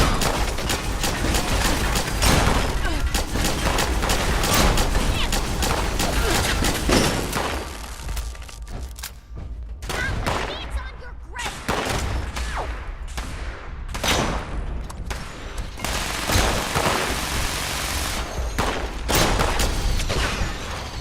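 Fallout 76 gunfire, long stretches of rapid shots and bursts with scattered thuds and mechanical clatter, loud and continuous with brief lulls, sometimes under a talking voice.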